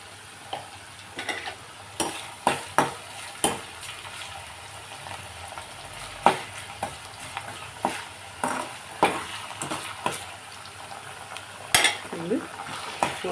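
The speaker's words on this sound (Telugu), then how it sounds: "వేగుతున్నాయి చూడండి మొత్తం" Brain curry fries in a pan with ginger paste added, a soft steady sizzle broken by frequent clinking stirs of a utensil against the pan, with faint talk underneath.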